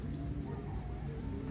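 Pigeons coo softly at a rooftop loft, with low murmuring calls over faint background noise.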